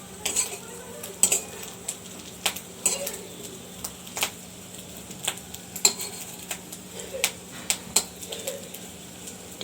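A metal spatula scrapes and clinks against a wok in irregular strokes over a quiet background, with faint sizzling.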